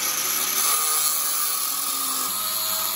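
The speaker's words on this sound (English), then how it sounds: "And I'm gonna cut a groove in that." A power tool cuts a groove into wood for a shop-built square, a loud continuous whine and rasp of the cutter that stays steady throughout, with no talk.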